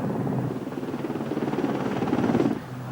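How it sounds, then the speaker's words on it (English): Military helicopter arriving with casualties on a cliff top during the 1982 Falklands War, a rhythmic rotor thudding that pulses steadily at moderate distance and then drops off abruptly near the end. "medical staff waited for the helicopters to bring the casualties to them"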